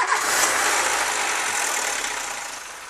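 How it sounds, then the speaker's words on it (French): A Nissan Micra K12 1.4i petrol engine runs at a steady idle right after being started, a continuous broadband hum that stays loud throughout and eases slightly toward the end, with no talking. "On va pouvoir mettre en route le moteur."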